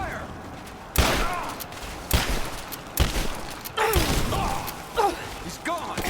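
Gunfire rings out in the Tomb Raider video game: several sharp, loud shots or short bursts about a second apart, with whistling ricochet-like sweeps and faint voices between them.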